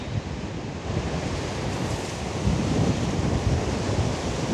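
Strong morning wind roars over crashing ocean waves in Taipei, a dense, continuous rumble of surf with gusting wind noise on the microphone.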